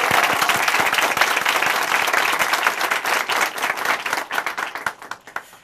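A church audience applauds at a testimony event, dense sustained clapping from a large crowd close by that thins into scattered claps toward the end.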